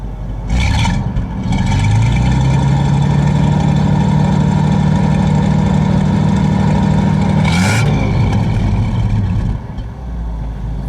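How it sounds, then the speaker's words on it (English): A 1938 Packard Twelve formal sedan's V12 engine is revved from idle, rising to a sustained smooth hum that holds for several seconds before settling back, heard close up with no talking. "Paul, give it a rev"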